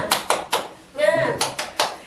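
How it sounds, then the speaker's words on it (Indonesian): A group of adults joins in the tepuk semangat clapping chant during an Indonesian training session, with sharp bursts of hand claps in a quick rhythm and a short shouted chant in the middle. "kalau saya bilang tepuk semangat, semangat, gitu ya Bapak Ibu"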